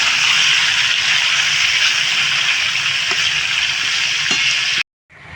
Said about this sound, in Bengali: এদিকে দেখো আমার চিকেনটা প্রায় ভাজা হয়ে গেছে